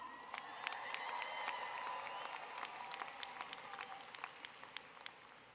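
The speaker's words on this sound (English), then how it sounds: "They deserve an applause too" A large commencement crowd applauds, sounding somewhat distant and reverberant, with scattered sharp claps and a faint cheer rising over a broad wash of clapping that gradually thins out.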